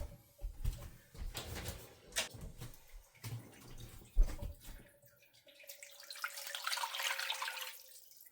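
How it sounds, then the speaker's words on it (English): Ten cups of water poured into a soup pot for homemade Mexican tortilla soup, heard as faint, uneven splashing and running water with a few clunks, then a steadier stream toward the end, quiet and close. "we're going to add 10 cups of water there"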